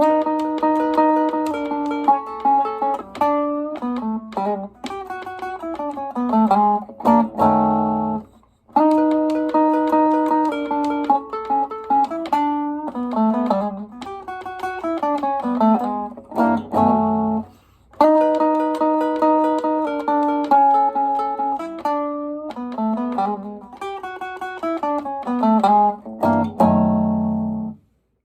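An electric guitar plays a slowed-down Chicago blues turnaround. Clean picked notes and bends repeat in three similar phrases, each ending on a ringing low chord followed by a brief pause. The guitar is heard alone.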